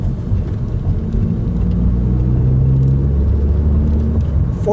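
Car with a manual six-speed gearbox pulling through third gear, a loud close engine rumble whose tone rises steadily for several seconds before easing off, with no talk.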